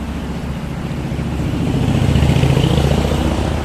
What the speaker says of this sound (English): Sorry about the noise, I'm right below the street here.